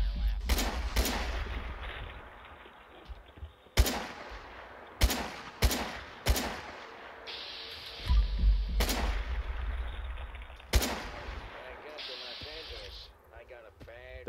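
Sharp, loud gunshots crack out one by one at irregular intervals during Fallout 4 VR combat, each burst standing out over a quieter stretch of ambient game sound, with a person talking in between.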